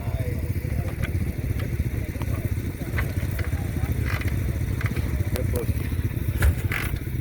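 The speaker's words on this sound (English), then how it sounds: "1949 Panhead, okay? That's a real man's bike." A 1949 Harley-Davidson Panhead with an open primary rumbles low and steady at a motorcycle hill-climb event, a constant engine drone with occasional crackles while people talk nearby.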